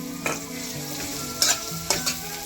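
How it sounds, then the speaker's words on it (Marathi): Two finely chopped onions frying in a pan until golden, with a steady soft sizzle broken by a few sharp scraping stir strokes. "सोनेरी रंग होईपर्यंत कांदा भाजून घ्यायचा कच्चा कांद्याचा वास गेला पाहिजे"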